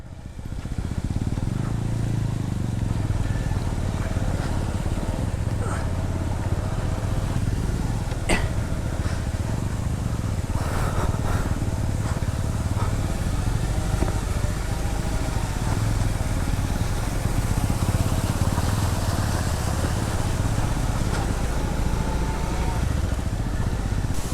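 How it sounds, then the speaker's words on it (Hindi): A motorcycle engine drones continuously up close for a long stretch, steady with slight rises, and a few scattered knocks and splashes, riding along a muddy hill road in heavy rain season. "देखते हैं भाई ऋतिक कैसे बाइक चलाता है"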